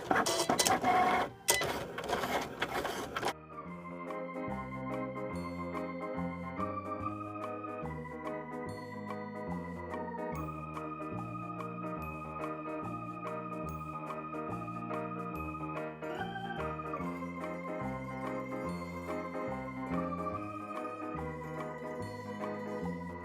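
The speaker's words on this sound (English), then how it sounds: "so our machine is done cutting" A Cricut cutting machine cuts small paper flowers, opening with loud clattering, then a steady mechanical whir with shifting motor tones and rhythmic stepping that runs on without a break, close and fairly loud.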